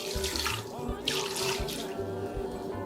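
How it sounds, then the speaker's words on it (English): Water poured into a pressure cooker pot for a green herbal soup, a close, continuous splashing and gurgling stream that lasts throughout. Light background noise is faintly present. "Add a bit of water."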